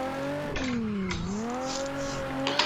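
A car speeds through the pit lane at a race circuit, its engine note rising and falling in a close, steady whine with tonal harmonics and a faint tire scrub.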